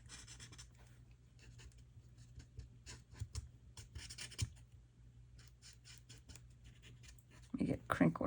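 A pen scratches and rubs across a Valentine's card while shadows are drawn, giving faint, quick strokes in short bursts under a quiet voice, with louder rustling at the end.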